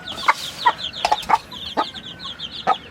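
A broody hen clucks among her chicks, giving several short, separate clucks while higher cheeps from the chicks trickle around them at close range.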